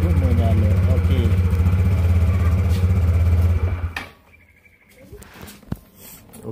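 Yamaha Ego LC125 motorcycle idles steadily up close with a buzzing, even engine note, then cuts off, leaving quieter clicks and handling sounds.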